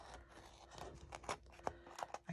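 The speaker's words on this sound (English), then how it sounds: "I can't seem to get my scissors up against the file folder for whatever reason." Scissors snip and crunch against a paper file folder in a few short, uneven cuts with pauses between them, close and fairly quiet, no voices.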